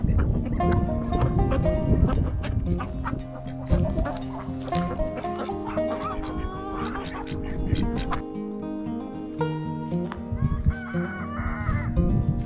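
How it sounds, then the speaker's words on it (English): A maturing young rooster crows repeatedly nearby, the calls mixed with clucking hens and other fowl through a lively barnyard stretch. "I can hear that rooster."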